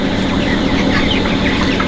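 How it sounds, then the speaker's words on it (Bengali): Ten chickens kept on a rooftop cluck briefly against a steady, loud background hiss. "আমি তার ভিতরে আপনাদের কয়েকটা মুরগি আমি ধরে দেখাবো"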